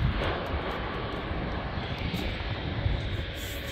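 An Embraer 190 jet roars steadily at Canberra airport in a broad, continuous engine rush that stays loud and fairly near throughout, with no talking.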